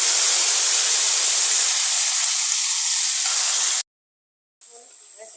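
Onion paste hitting hot oil already seasoned with bay leaves, cardamom and cinnamon for a chicken roast, giving a loud steady sizzle and hiss that cuts off abruptly, then a fainter sizzle resumes.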